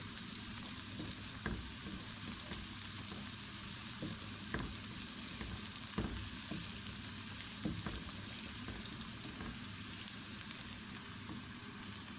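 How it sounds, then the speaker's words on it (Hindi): Onions fry in a pan in steady, dense sizzling that continues throughout, with occasional stirring knocks and scrapes over the constant crackle. "प्याज हमारे फ्राई हो चुके हैं।"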